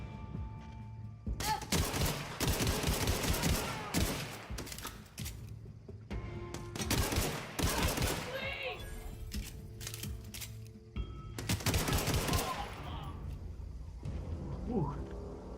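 Rapid gunfire in the video game The Outer Worlds, several loud bursts of clattering automatic shots separated by short quieter stretches with game sounds.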